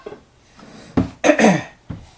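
A few coughs, close and harsh, coming in short bursts with a brief throaty rasp between them.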